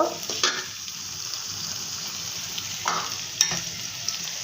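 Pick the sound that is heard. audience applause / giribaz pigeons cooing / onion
onion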